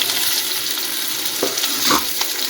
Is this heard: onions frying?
yes